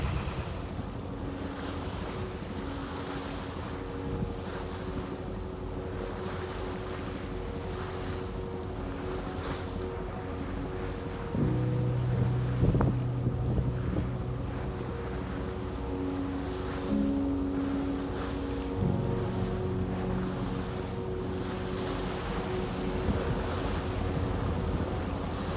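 An old sailing boat under engine power pushes through waves in 8 to 9 knots of wind, with continuous wash, surf and microphone wind noise, plus a low motor hum and occasional thumps.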